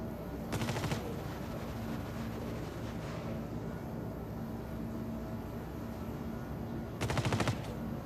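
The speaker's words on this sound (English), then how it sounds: "Look at that, firing from 3 directions." Gunfire in the video game Star Citizen, two short bursts of rapid shots, one early and one near the end, over a steady ship engine hum.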